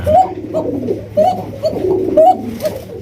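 Several Golla pigeons coo close by in repeated soft, throaty rolling calls, overlapping one another with a low steady hum underneath.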